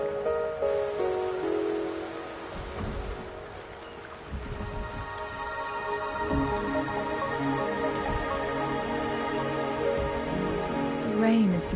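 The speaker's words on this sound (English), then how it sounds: "The rain is subsiding, and the sky will soon clear." Rain falls steadily in the video game Wuthering Waves, a soft hiss of drops with game music over it and a brief louder swell near the end.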